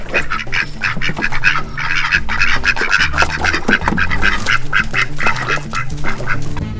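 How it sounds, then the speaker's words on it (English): Several ducks quack continuously and fairly close, a busy overlapping chorus of nasal calls with a low rumble of background noise underneath. "Yeah, we got some ducks also."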